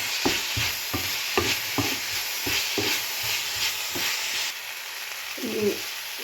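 Green chilies, crushed ginger, garlic and curry leaves sautéing in a pan for a Kerala vegetable stew: a constant close sizzle with regular spatula scrapes and stirs, the hiss fading near the end, no voices.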